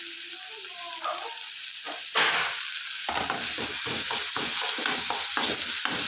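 Chopped small tomato sautés in oil for Bombay chutney, a steady close sizzle that flares louder as it goes, with rhythmic spatula scrapes and taps against the pan.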